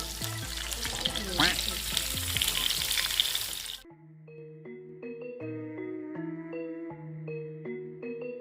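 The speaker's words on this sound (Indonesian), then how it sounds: "Saatnya kita masukkan ikan ke teflon." Fish frying in a non-stick pan: a loud, crackling sizzle with bubbling and spitting oil fills the first half, then cuts off as gentle melodic music takes over.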